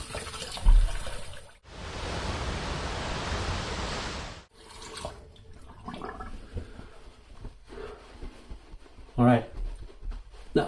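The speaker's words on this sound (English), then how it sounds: "So I'm just going to rinse off here real quick." Tap water runs steadily for a few seconds while someone rinses off after shaving, followed by quieter splashing and handling sounds nearby, with a voice speaking briefly.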